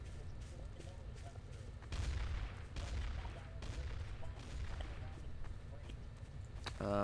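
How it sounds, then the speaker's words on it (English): Gunfire from the Garry's Mod game mode Trouble in Terrorist Town, a run of rapid, fairly distant shots with a few louder bursts, fluctuating steadily over the in-game background. "I hear shooting."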